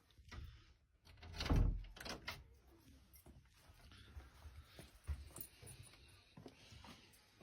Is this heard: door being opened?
yes